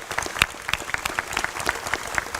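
A press conference audience applauds visiting guests from Alabama A&M, a modest crowd clapping with sharp individual claps standing out above a light ongoing patter.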